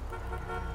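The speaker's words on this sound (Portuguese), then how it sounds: "Funcionou a buzina agora!" A steady, quiet honk comes from the horn of a tuned Golf 8 GTI mod car in GTA V, held as a single continuous tone for less than a second.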